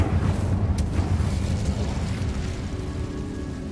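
Fiery spell burst in the Hogwarts Legacy video game: a loud low rumbling roar with a sharp crack near the start, then a steady whooshing flame that slowly eases off, with no talking.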